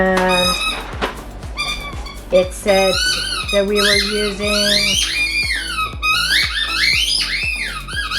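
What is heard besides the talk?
dog playing with squeaky toy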